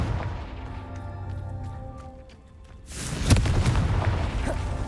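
A Confringo fire spell bursts in Hogwarts Legacy, a loud broadband explosive blast erupting about three seconds in after quieter rumbling game ambience, then sustaining a roaring, crackling tail to the end.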